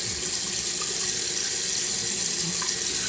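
A bathroom tap runs in a steady, close hiss of water into a sink while someone wets their face before shaving, with no talking.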